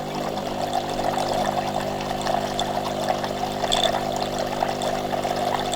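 Water runs steadily from a Delonghi Magnifica coffee machine into a large container, a continuous close trickle and pour with no talking.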